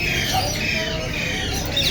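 Parrots squawk harshly, close and loud, among many birds at a bird market in Karachi, with overlapping calls over a busy background.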